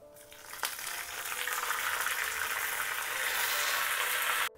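Dried red chillies and curry leaves hit hot oil with a sudden crackle, then a loud, steady sizzle that swells and holds for several seconds before cutting off.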